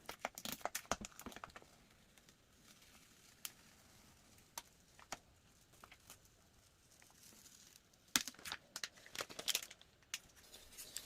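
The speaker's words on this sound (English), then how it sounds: "Once that's done, we're just going to peel the tape off." Tape is peeled off a drywall injection patch, giving faint scattered crinkles and sharp ticking tears in a quiet room, with brief bursts near the start and again toward the end.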